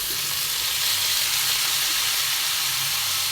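Tomatoes for a winter chutney hitting a hot pan, a loud, dense hiss of sizzling and steam close up and continuous, with no voices over it.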